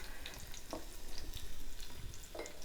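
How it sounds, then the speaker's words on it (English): Chopped onion sautéing in the pot of an Instant Pot for a curry sauce, a steady close sizzle and crackle with occasional stirring scrapes, no talk. "So we put the onion in the pan and then just saute that for a couple of moments"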